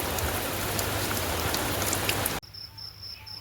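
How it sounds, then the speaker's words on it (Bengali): Heavy rain pours down on a poultry farm as a dense, steady roar of drops, then cuts off abruptly to a quieter outdoor ambience with faint insect chirps. "এখন বেশ সাংঘাতিক পরিমাণে বৃষ্টি হচ্ছে"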